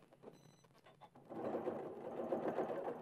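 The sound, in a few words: sewing machine stitching a Y seam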